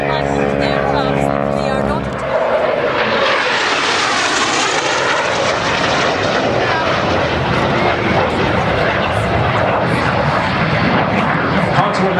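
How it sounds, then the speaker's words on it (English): A fixed-wing aircraft from a Sydney Camm design line roars past at the 2010 East Fortune Airshow. After a steady hum, a loud, sustained engine roar swells and holds close by. "This aircraft came out of the same Sydney CAM stable as the Hawker Hurricane, isn't it"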